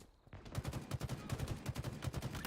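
Battle rifle in Halo Infinite firing rapidly: loud, close shots in quick, evenly spaced bursts that repeat steadily with no talk over them.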